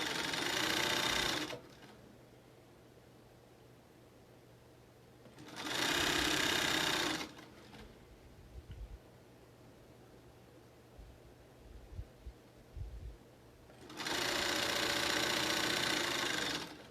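A sewing machine stitches a fabric mask with ties in three loud, steady bursts of whirring, with quiet pauses and light handling noise between them.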